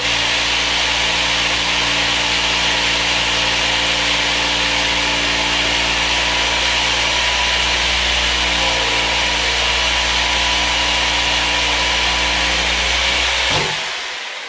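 A power saw cuts steadily through material during a master bathroom demolition, its blade darkened and burning; the loud, close, continuous motor whine and grinding run unbroken for about thirteen seconds, then wind down abruptly.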